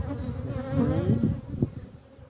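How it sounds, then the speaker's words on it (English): Honey bees buzz close up in an opened hive during a spring inspection, a dense wavering drone with rising and falling whines from individual bees passing near. "We just got into a section where there are more guard bees, I suppose."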